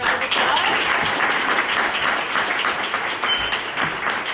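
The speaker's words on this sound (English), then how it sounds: "Please join me in another round of applause." Steady, dense applause from a seated audience for the panelists at a philosophy soirée, filling the room evenly for several seconds without a break or any voice on top.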